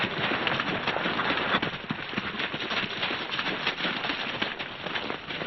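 Steady hoofbeats of horses clip-clopping, dense and continuous, with a broad outdoor rumble underneath.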